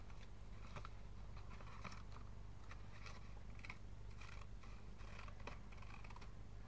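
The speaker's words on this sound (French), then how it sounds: "Je prends mon ciseau. Je découpe un grand carré." Steady snipping of scissors cutting a large square from paper, a quick irregular series of crisp little cuts close to the microphone over a constant low hum.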